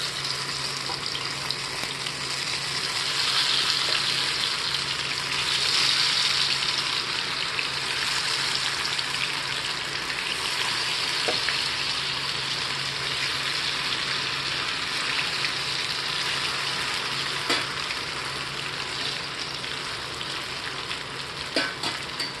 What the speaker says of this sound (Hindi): इसमें एक एक पीस डालते हुए हम हाई फ्लेम पर इनको फ्राई करेंगे